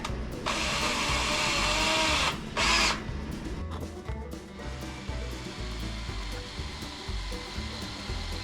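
A power drill bores into a metal front-end part of a 1949 Jeep Willys pickup, whining steadily and loudly for about two seconds, then a brief second burst, before fading to quieter workshop noise.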